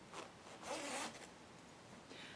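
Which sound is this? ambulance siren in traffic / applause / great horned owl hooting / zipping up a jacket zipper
zipping up a jacket zipper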